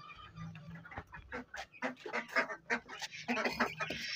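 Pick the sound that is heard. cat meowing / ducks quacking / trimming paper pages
ducks quacking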